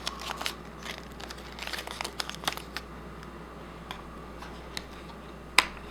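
Strips of tape being pressed across the shelves of a small dollhouse cosmetic shelf: soft, close crinkling and light ticking scattered through the clip, with one sharper snap near the end.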